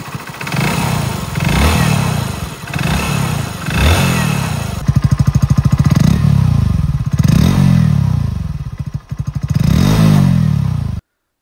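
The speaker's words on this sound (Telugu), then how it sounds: "ఇంజన్ సౌండ్ అలాగే ఎగ్జాస్ట్ నోట్ విన్నారు కదా." A 2025 Hero Splendor Plus motorcycle engine runs close by, its steady exhaust thump rising and falling through repeated revs and idles, loud and continuous for about eleven seconds before cutting off abruptly.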